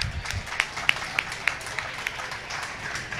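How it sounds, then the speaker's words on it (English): Scattered handclaps from a small audience at a bowling tournament's final, about half a dozen sharp claps in a loose, even rhythm, fairly faint against a quiet room. "give Bryanna Cote and all of the Go Bowling Challenge finalists another round of applause"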